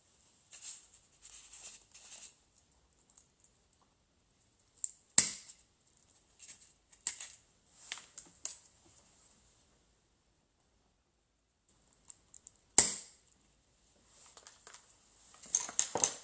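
A stick of fondant gumpaste is cut with a few sharp close snips or chops. Quiet small handling noises sit between them.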